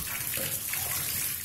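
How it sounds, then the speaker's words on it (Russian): Water gushing steadily from freshly cut pipes during a plumbing repair in a club building, a continuous close, rushing spray that never lets up. "Вот ребята отрезали трубы, и фонтан пошел."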